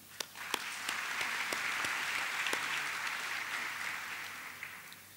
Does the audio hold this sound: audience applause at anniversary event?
yes